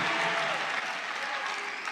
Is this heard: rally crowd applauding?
yes